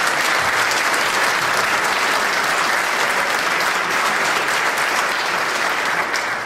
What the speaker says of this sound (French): Vous pouvez également l'applaudir